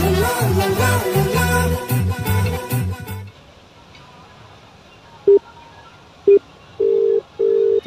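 Music plays for a few seconds and then cuts off, followed by a series of short, clear electronic tones of a phone being dialed, the last ones held longer.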